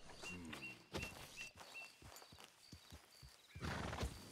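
A horse in the Red Dead Redemption 2 video game gives a short whinny, then its hooves clop in a steady walking rhythm at close range, with a louder snort or stamp near the end.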